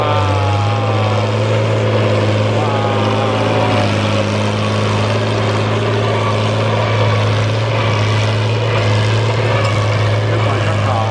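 Heavy Fiat 1000DT tractor deep plowing, its engine giving a steady loud low drone with a constant hum throughout, close by and uninterrupted.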